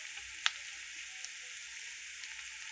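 Food fries quietly in a pan with eggs, turmeric and salt, a faint, even sizzle with a couple of small clicks and no voices.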